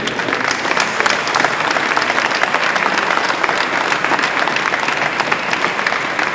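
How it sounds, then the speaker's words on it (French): Loud, dense applause from an awards ceremony audience at SPE France, a continuous crackle of many hands clapping steadily throughout. "vous pouvez les applaudir"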